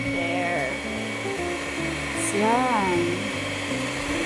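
Electric mixer at its lowest speed whipping a homemade ice cream mixture until fluffy, a steady motor whir running throughout under a voice.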